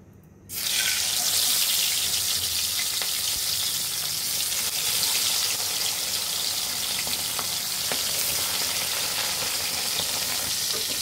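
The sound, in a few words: bata fish frying in oil in a wok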